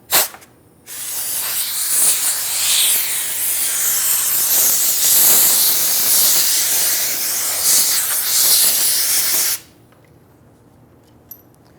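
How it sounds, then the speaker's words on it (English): A loud, sustained blast of compressed air blows dirt and debris off the fuel tank area of a 1994-2004 Ford Mustang, lasting about eight seconds before cutting off abruptly, with no voices. "use some compressed air and clean up the debris around here, the dirt, anything like that"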